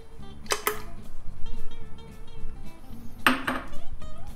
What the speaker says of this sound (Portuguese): o primeiro passo é colocar esses ingredientes aqui no liquidificador, que são os ovos